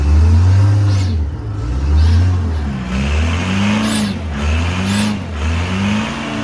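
Detroit 4-53 diesel engine on a crane, revved on its air accelerator, rising and falling through about five loud, close surges, each ending with a sharp hiss of air.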